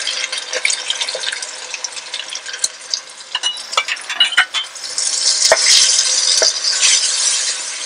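Chopped tomatoes and spices frying in a pan for Afghan aash, with scattered clicks and scrapes of stirring that build into a louder, steady hissing sizzle in the second half.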